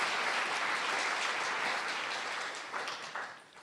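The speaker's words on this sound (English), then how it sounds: "Let's give the staff of the Waterfront Alliance a big round of applause." Audience applause at a closing general session for the Waterfront Alliance staff, a broad wash of many clapping hands at moderate distance that thins and fades over a few seconds.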